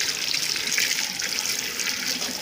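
Cold tap water runs steadily into a sink, a loud, close, continuous hiss and splash heard alone and without pause.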